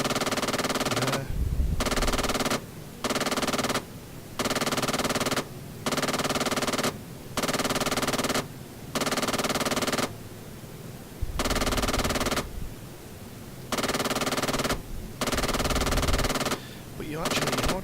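An AI gunner fires a helicopter machine gun in Arma 3: repeated long bursts of rapid gunfire, loud and near, broken by short pauses, with engine drone underneath and talk over parts of it.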